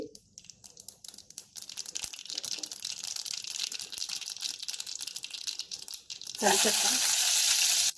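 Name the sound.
cumin seeds sizzling in hot tempering oil in a kadai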